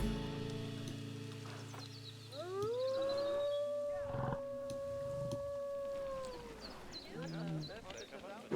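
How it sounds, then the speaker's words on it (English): An animal in the Planet Zoo video game lets out a long rising howl that holds for several seconds, loud and close, over ambient zoo background noise with other faint calls. "The howling is going to wear on me eventually, I'm guessing."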